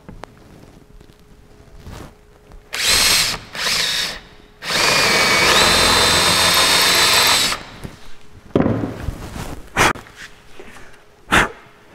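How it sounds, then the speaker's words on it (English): A power drill bores a hole into a wooden shelf in a workshop, starting with two short whirring bursts and then one long, loud, steady run of nearly three seconds, followed by a few brief clicks and bumps. "drill the hole into the shelves."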